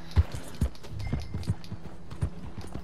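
Horse hooves in Red Dead Redemption 2, a horse walking with a steady, unhurried clip-clop of several distinct hoof strikes, fairly close and moderately loud, with no talking.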